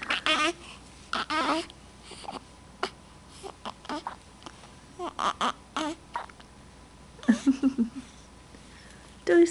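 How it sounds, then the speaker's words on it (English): A nine-day-old baby hiccups repeatedly in short, close, high little catches, spread irregularly among soft infant babbling and fussing sounds. "Those stinking hiccups."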